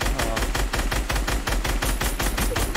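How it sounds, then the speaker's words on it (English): Rapid automatic gunfire rattles steadily in a fast, even rhythm, loud and close, during an Arena Champs match in a shooter video game, with no talking over it. "Is that you shooting?"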